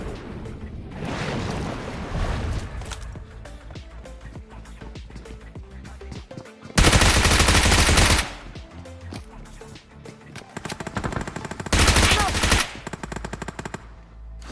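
M249 machine gun fire in the BGMI (PUBG Mobile) video game rattles out in rapid bursts, with two especially loud, dense sustained volleys among quieter gunfire and game ambience.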